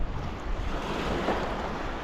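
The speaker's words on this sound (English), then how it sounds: "we're getting some waves coming in" Ocean waves roll in at the shore by a fishing spot on a reef and basin, a loud continuous wash of surf mixed with wind buffeting the microphone, with no voices.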